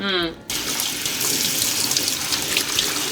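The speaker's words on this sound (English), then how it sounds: "So you have to rinse these thoroughly because it comes kind of in a storage or brining solution." Tap water runs steadily over noodles being rinsed in a sink, a loud, continuous splashing rush that starts abruptly after a brief moment of voice.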